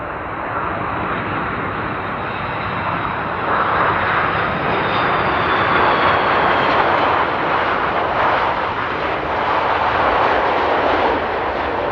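Airliner landing at Amsterdam Schiphol airport in windy weather, a loud, sustained roar of engines that swells slightly as it passes and stays steady throughout, with no speech.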